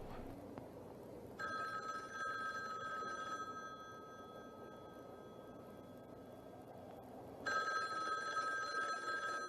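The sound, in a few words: telephone ringing at the end of the film Black Christmas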